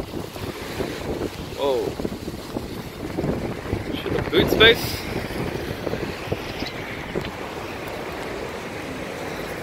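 Strong wind buffets the microphone in a constant roaring rush, with someone speaking briefly over the gusts.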